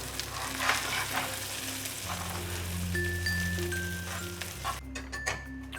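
Burger patties made with rolled oats sizzle steadily in a frying pan, a dense close crackle with faint clinks and hums underneath, continuous for several seconds with no talking.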